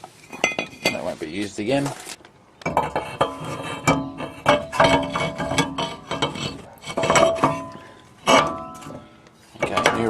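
An old brake rotor comes off and a new one goes on: metallic clanks, scrapes and ringing clinks of the steel disc against the hub, in bursts broken by a brief pause, with someone speaking in between.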